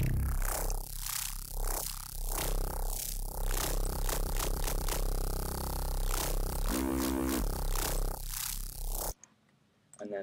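An abrasive, squelchy neuro bass patch on the Massive synthesizer plays dense, gritty growls and wobbling sweeps at loud volume. It cuts to near silence at the very end.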